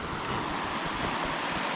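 A small waterfall at a scenic roadside spot spills clear water, giving a steady, close, broadband rushing wash with a faint breezy edge and no voices.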